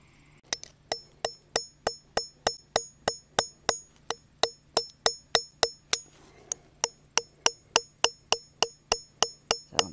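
Steady series of about twenty-five sharp metallic hammer strikes on a steel chisel bit driven into solid rock to free crystals, evenly spaced and close, ringing briefly after each blow with no talk.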